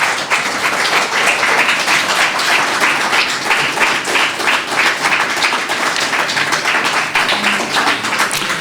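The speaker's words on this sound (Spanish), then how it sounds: "Démosle un aplauso al Señor." A church congregation claps continuously and fairly loudly, the many hands forming a brisk, rippling texture that holds steady throughout.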